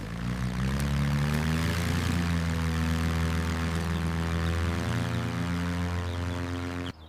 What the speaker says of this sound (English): Let's see how high this amazing glider can soar into the sky.